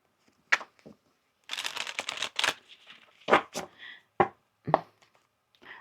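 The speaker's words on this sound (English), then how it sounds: "One more shuffle." Tarot cards being shuffled by hand in a quiet room, as separate crisp riffling bursts and short flicks, close and clear, with no talking.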